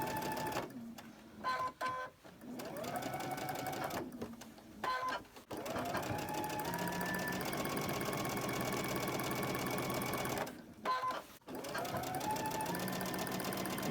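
A sewing machine stitches rows of quilt blocks together, its rapid whirring hum running in long steady bursts broken by short stops, close by with no talking over it.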